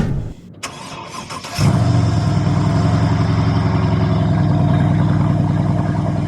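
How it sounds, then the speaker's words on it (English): A Mercedes-Benz E-Class Coupe with a biturbo V8 cold-starts: a brief cranking whir, then a loud catch that flares up and settles into a high, steady, throaty fast idle close by. "you guys probably want to hear a cold start on this V8 monster."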